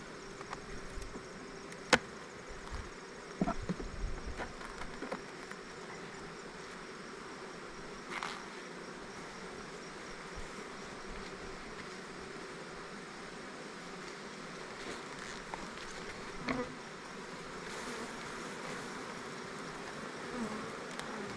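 Honeybees buzzing around hive supers during a late-season nectar flow, a steady soft drone throughout with a few closer fly-by buzzes; no talk.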